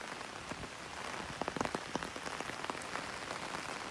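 Steady rain pours around St. John Parish Church in Barbados, a dense hiss with scattered sharper drops pattering on nearby surfaces, close and continuous.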